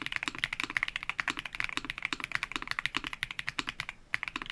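Rapid, steady typing on a mechanical keyboard with Jade Blossom switches, producing a soft, tactile tok-tok rather than sharp clicks; close and clear, with no voices over it.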